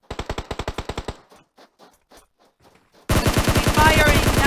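Automatic gunfire in the mobile battle-royale game PUBG Mobile rattles in a rapid, even burst, then after a short lull of scattered faint shots a louder, denser stream of automatic fire takes over.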